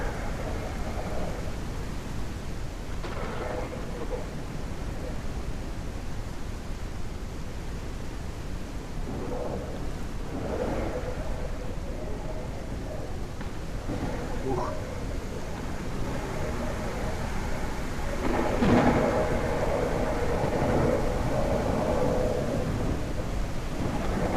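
Video game thunderstorm weather, a constant hiss of rain with low rolling thunder swelling now and then, one stronger rumble near the end.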